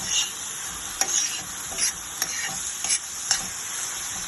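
Tomatoes are stirred into onions frying for mutton kheema, with a steady sizzle under sharp, irregular scrapes of the spoon against the pan, close and clear, with no talking.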